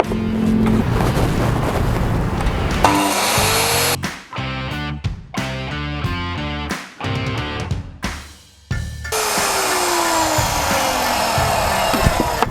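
A miter saw roars, then a series of choppy bursts and pauses follow as it makes an angled cut in wood, before the motor runs loud again and winds down.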